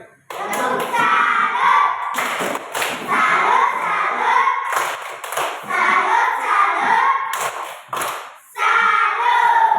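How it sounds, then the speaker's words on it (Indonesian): Group clapping in a classroom-style session, a hand-clap salute given in unison to a group, sounding as dense bursts of claps that recur in several rounds across the span, with children's voices mixed in. "Tepuk salam dulu untuk kelompok mereka ini"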